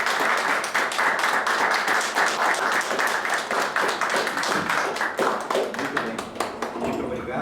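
A standing audience at a formal academy ceremony gives loud, warm applause to welcome two new academicians, dense clapping sustained for over seven seconds before it thins slightly at the end.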